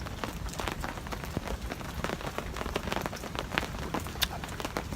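Rain at a winter camp patters steadily and densely on a nearby surface, a continuous crackling hiss of drops with no voices.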